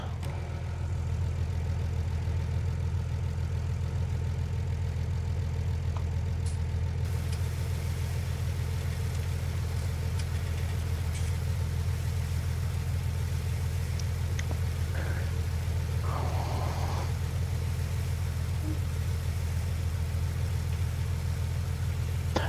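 A tractor engine idling in the Farm Simulator 19 video game, a steady low drone with a constant hum running throughout, even and unbroken with no voices.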